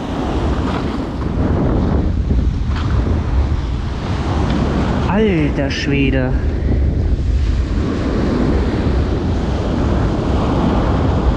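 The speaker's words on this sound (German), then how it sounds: "Jetzt wird es langsam etwas windiger." Strong wind and breaking surf on a Baltic Sea beach make a loud, constant roar with the wind buffeting the microphone, and someone speaks briefly partway through.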